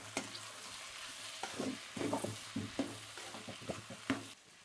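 A spoon scrapes and stirs white vegetable kurma gravy with coriander in a nonstick pan, a series of soft, irregular scraping strokes over a faint sizzle, close and fairly quiet, with no talking.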